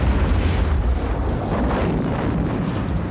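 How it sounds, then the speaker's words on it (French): A big explosion in the 1987 film Robocop, heard as a sustained, dense roar of blast and rumbling debris that stays loud and steady throughout without any speech. "Belle explosion."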